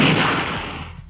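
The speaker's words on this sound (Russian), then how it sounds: "Либо стволы вверх и стрельба по минометному," A Nona-S self-propelled gun fires as a mortar with its barrel raised, giving one loud, close blast that rolls off and fades over about a second.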